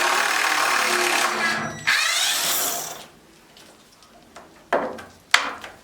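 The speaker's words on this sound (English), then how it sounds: "Unscrew these 2 screws and pull this board" A screw gun whines loudly for a few seconds while backing screws out of a board in a root cellar, then stops, leaving a few knocks and scrapes of handling.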